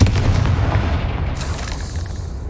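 Bombarda explosion spell in Hogwarts Legacy, a single deep, loud boom at the start that decays into a rumbling tail over a couple of seconds.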